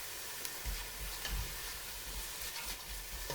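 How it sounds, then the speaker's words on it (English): Onions and garlic sizzling slowly in a pan, a soft steady frying hiss with faint stirring noises underneath, quiet and continuous. "These can all go in with your onions, which are starting to sizzle slowly here and soften."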